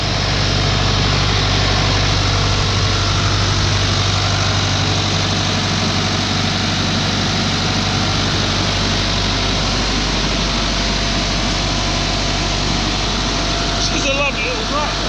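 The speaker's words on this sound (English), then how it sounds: "This is a lovely little tractor." A small 89-horsepower farm tractor engine idles steadily and loudly nearby, a constant low rumble with no change in pitch throughout.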